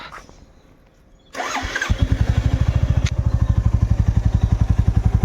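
A motorcycle engine is kicked to life after a quiet stretch, catching with a sharp burst and then settling into a loud, steady, rapidly pulsing idle close to the microphone, with no voices.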